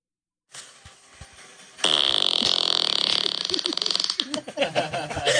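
A recorded fart is played aloud during a podcast: a long, high-pitched, sputtering squeak that starts faintly then swells louder and rougher, ending in irregular bursts.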